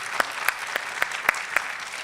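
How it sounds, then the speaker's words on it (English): Audience applause at a Black History program, a steady wash of many hands clapping with a few louder individual claps standing out at regular intervals, moderately loud and continuous throughout. "Let's give Dante a round of applause."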